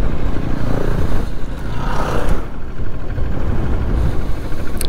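A Honda CRF 300 and other trail motorcycles ride past on a trail, a loud rough engine rumble that swells and fades as the bikes go by, with no let-up in the noise.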